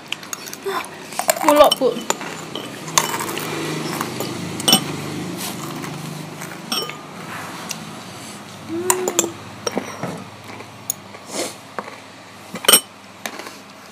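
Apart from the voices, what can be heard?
metal spoon clinking against dishes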